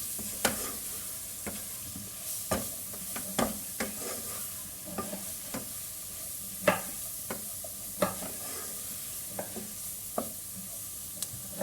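Vegetables and flour sauté in a pan under a soft, steady sizzle, while a utensil scrapes and taps against the pan at irregular intervals, close by and with no talking.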